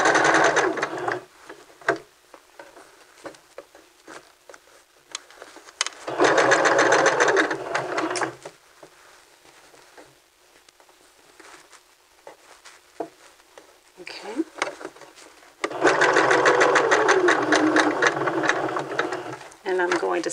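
Sewing machine stitching a men's vest in three rapid motorized bursts of close, rhythmic needle chatter separated by quiet pauses with small handling noises and a bit of talk.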